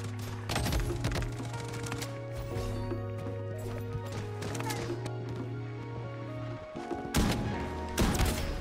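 Heavy gunfire in the shooter game Bloodstrike, sharp loud shots cracking out in a few bursts over steady tonal game music and background noise, with a cluster of shots near the end.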